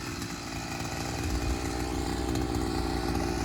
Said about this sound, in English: I just used an auger to dig a hole.